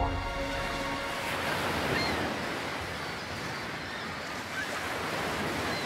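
Sea waves and surf breaking on a hot, remote beach, a steady broadband wash with gentle swells and a light wind rumble, close and continuous with no voices.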